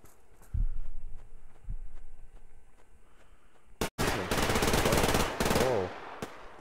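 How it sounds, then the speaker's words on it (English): Gunfire in the video game Survarium: a few muffled distant shots at first, then after a brief cut, loud rapid automatic bursts rattling close by in quick succession. "Oh, there's definitely some shooting going on over here."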